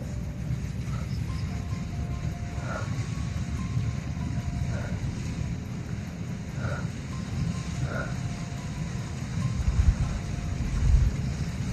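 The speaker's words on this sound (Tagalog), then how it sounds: "Sobrang lakas ng hangin." Strong wind buffeting a phone microphone outdoors, a steady low rumbling roar that persists throughout with gusty surges near the end.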